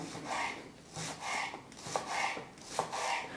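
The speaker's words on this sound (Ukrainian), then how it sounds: "А ще я хочу додати зеленого лучка. Теж нарізаємо але дуже дрібно." A knife chops green onions very finely on a board in a quiet kitchen, in quick bursts of soft repeated cuts with brief gaps between them.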